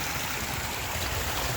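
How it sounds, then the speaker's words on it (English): A small waterfall in the woods gives a steady, full rush of falling water, constant and close with no pauses. "And a little waterfall."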